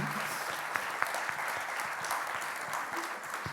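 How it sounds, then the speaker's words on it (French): Steady audience applause closes a French-language afternoon conference on multiple sclerosis: dense, continuous clapping from a seated crowd with a few sharper claps standing out, evenly loud for the whole stretch with no voices over it. "je vous propose qu'on applaudisse nos intervenantes et ceux d'avant"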